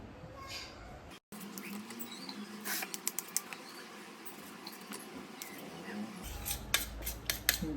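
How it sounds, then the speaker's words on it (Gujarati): A knife cutting the crusts off slices of bread for a potato sandwich, soft sawing and crisp crunchy cuts with light taps, close up and quiet, with someone speaking over part of it. "બ્રેડની ધારી આપણે કાપી લઈશું"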